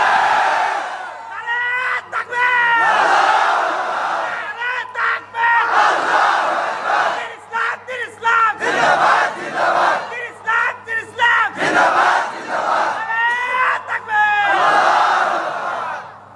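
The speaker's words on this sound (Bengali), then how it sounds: "এই যে নারায়ে তাকবীর স্লোগান দেন" A large crowd at a religious sermon gathering in Chatmohar, Pabna chants the Nara-e-Takbir slogan in loud rhythmic call-and-response bursts, with one voice leading each call and many voices roaring back in short repeated waves.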